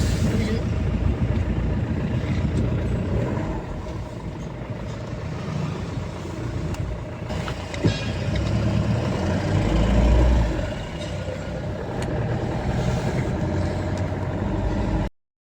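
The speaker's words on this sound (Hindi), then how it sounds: "सबसे गंदा है यहाँ गाड़ियों का रोल, जाम लगा के रखते हैं" Congested town road in the hills, with cars and trucks idling and creeping along in a traffic jam; a steady, dense engine rumble fills the scene throughout, with a brief louder swell midway and voices now and then.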